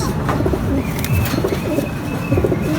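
Domestic pigeons coo repeatedly in low, throaty bursts over a steady background hum, fairly close and moderately loud.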